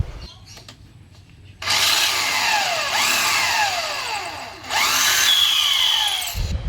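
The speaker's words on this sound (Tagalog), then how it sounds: "kaya ipapadrill na natin." A power drill bores out a seized screw on a motorcycle disc brake plate in two loud, close bursts of whining, straining revs, with quieter workshop noise before and between them.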